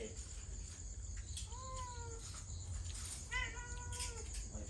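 A cat meows twice in a house at night, short rising-falling calls over steady background hum and noise.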